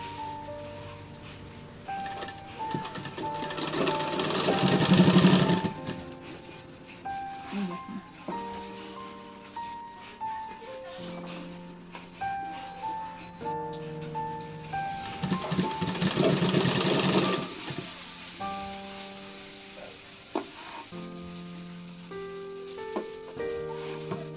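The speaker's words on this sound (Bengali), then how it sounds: "এটার পরে এটা দিয়ে দেবেন ঘুরিয়ে ঘুরিয়ে সেলাই করবেন" A sewing machine stitching a kaftan nightie while the fabric is turned, a moderate whirring hum that surges and eases in bursts, with tonal notes under it and a voice talking at times.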